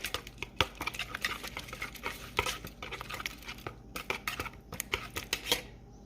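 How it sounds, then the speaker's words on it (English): A whisk beats seasoned eggs in a bowl: rapid, close metallic clicks and taps against the bowl in quick irregular strokes, with no talking. "Give it a quick whisk."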